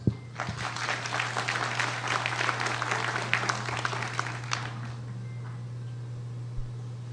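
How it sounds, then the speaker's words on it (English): Audience applause at the official launch of a hospital lung transplant program, dense clapping filling the hall for about five seconds before fading out, with a steady low hum from the room's sound system underneath. "A round of applause."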